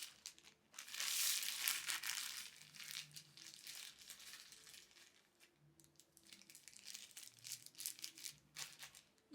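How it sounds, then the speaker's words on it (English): A plastic shower cap crinkles and rustles over hair during a 4C wash day, giving quiet, close crackling bursts that come and go in uneven handling movements, with no talk. "I have to put it in a shower cap, plastic bag,"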